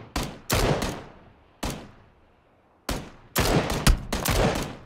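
Gunfire exchange in the video game PUBG: several loud, sharp shots in separate bursts, the first three spaced apart, then a dense cluster of overlapping shots toward the end, each with a short decaying tail.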